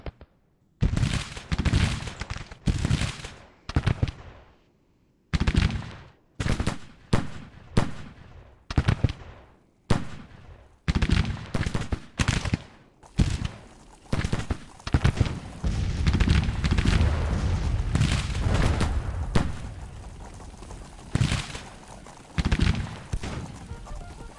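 Artillery and rifle fire boom through a Civil War battle in a strategy video game, with loud, irregular bursts and heavy blasts that merge into a dense, continuous roar of gunfire toward the end.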